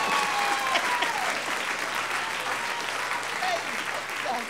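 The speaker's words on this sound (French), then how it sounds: "Acclamez à Jésus." A church congregation applauds for Jesus during a worship service, with dense, steady clapping that stays loud and even for the whole stretch.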